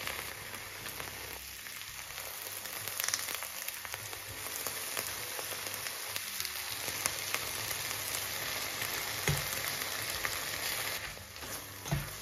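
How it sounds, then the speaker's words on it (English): Scrambled eggs with vegetables and cottage cheese fry in a pan, giving a steady hiss and crackle like light rain, with occasional louder spits and stirring sounds, fairly close and with no talk. "I'm just gonna make some scrambled eggs with some bread"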